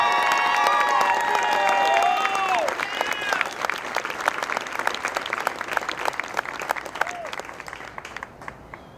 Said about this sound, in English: how about a round of applause for our newest Master Military Training Instructor?